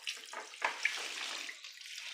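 A kitchen tap runs as frozen beef is set into water at the sink. A soft, continuous hiss of flowing water with a few small splashes and clinks stays faint and close throughout. No voices.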